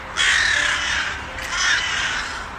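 Harsh, raspy crow caws ring out in two loud drawn-out bursts, close and overlapping as though several birds call together, with no talking over them.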